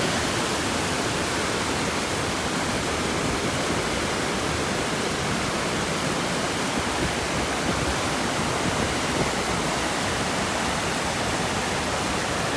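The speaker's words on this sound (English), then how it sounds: "And this brook goes on and on and on." A woodland brook and waterfall near Abol Bridge in Baxter State Park roar in a dense, unbroken rush of broadband water noise, loud and steady throughout with no voices.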